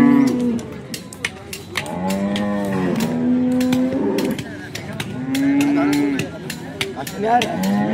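A cow moos loudly and close by at a cattle market in Sangola, several long drawn-out lows one after another, with brief gaps between them.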